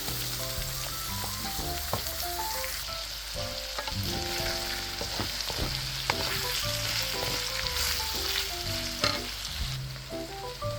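Garlic and onion sauté in a hot pan with a loud, steady sizzle, and stirring sounds come through now and then. No one speaks, though faint background music plays throughout.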